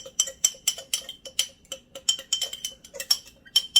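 A fork quickly whisking cornstarch and a tablespoon of water in a small bowl, making rapid, light metallic clinks and ticks in an uneven rhythm, close and alone.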